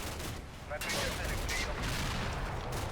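Gunfire in the tank war game Blood on the Snow, a few sharp distant shots and crackling fusillade bursts, fairly faint, under a voice.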